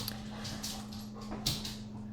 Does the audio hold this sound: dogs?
yes